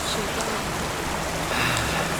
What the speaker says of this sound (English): the foreshadowed waterfall situation occurs